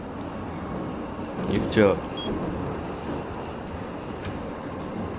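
Moscow metro car 81-740.4 Rusich running in Garry's Mod Metrostroi, a steady rolling rumble of wheels and traction with a brief rising whine partway through, under a man's speech.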